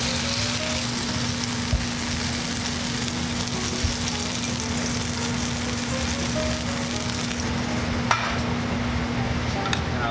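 Halibut fillet frying in a pan, a steady, close, even sizzle of hot fat that runs through the whole stretch with a few faint clicks of utensils and no talk.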